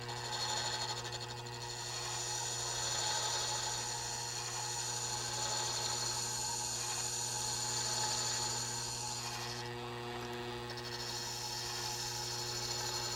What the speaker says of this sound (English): I'm going to hold it up against the stop and gradually lower the machine till we start cutting.